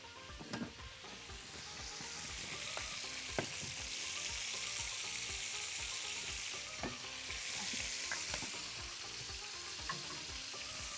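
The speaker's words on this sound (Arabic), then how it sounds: "ونبص على الفراخ كده على بال ما حلتنا تسخن." Chicken pieces fry in a hot pan, with a steady close sizzle broken by repeated scraping and stirring taps of a utensil, and no one speaking.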